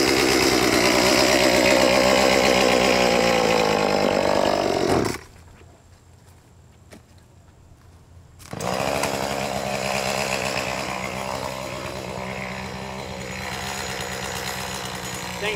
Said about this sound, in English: Pretty mighty little saw.